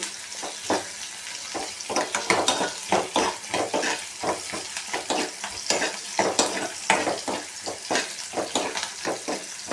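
Sliced onion and green chillies fry in a pan, Mandya style, with a steady sizzle broken by repeated scraping and stirring strokes that come close and fairly loud.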